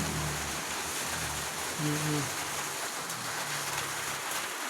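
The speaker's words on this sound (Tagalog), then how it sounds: "Ngayon, binagsak na talaga niya yung ulan." Steady, even hiss of rain falling throughout, with a few faint low tones briefly audible underneath.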